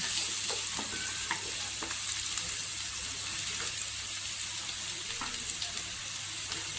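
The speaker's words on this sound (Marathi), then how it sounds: "इथे कांदा पण सॉफ्ट झालेला आहे एक मिनिटासाठी आपण तेलावर परतून घेतलेला आहे" Onion sautéing in oil in a pan gives a steady, close sizzle and crackle with occasional stirring scrapes, running continuously with no talking.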